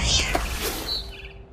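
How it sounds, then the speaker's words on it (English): A barn swallow chirps in the video game What Remains of Edith Finch, giving a few short, high tweets over a dense wash of background noise that fades out at the end. "Then I heard chirping outside my window. It was a barn swallow going back to her nest."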